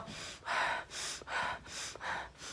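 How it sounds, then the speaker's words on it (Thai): A boxer breathes heavily after boxing training, five deep, loud, rhythmic inhale-exhale cycles at close range, each a rough rushing breath with brief pauses between, no speech. "สูดสูดลมหายใจเขาเยอะๆสูดเข้า"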